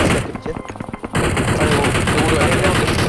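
Bursts of automatic gunfire crackle loud and dense in a PUBG Mobile tournament match, a few sparse shots at first and then continuous rapid fire, with a voice speaking over parts of it.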